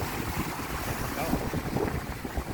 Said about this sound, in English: That's the wind.